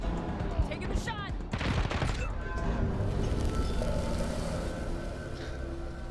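Gunfire in the video game Wasteland 3, a loud rapid burst of shots in the opening seconds followed by lingering rumbling game ambience.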